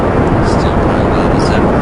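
A rocket engine in Kerbal Space Program throttles up into a loud, continuous roar that holds steady for a couple of seconds before cutting off abruptly.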